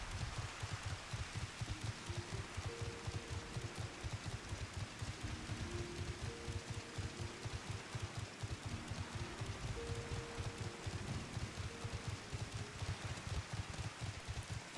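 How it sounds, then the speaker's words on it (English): Steady rain falls throughout in the video game Final Fantasy XIV, a dense continuous patter with faint melodic game music tones underneath and no talking. "I wish I was seeing it without, you know, all of the goddamn rain right now."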